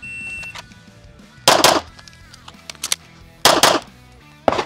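Pistol gunfire in a timed shooting drill with a Beretta LTT or H&K P30L, loud sharp shots in quick pairs and singles with gaps between strings, ringing echoes after each.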